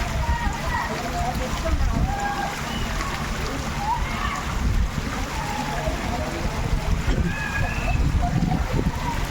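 People plunge and splash into the water at a water park, giving a continuous churning wash and splatter under nearby chatter and voices.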